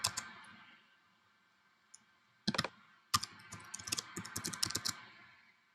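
Someone types on a computer keyboard, quick bursts of crisp key clicks close to the microphone. A quiet pause follows the first few taps, then a denser run of keystrokes, with no talking.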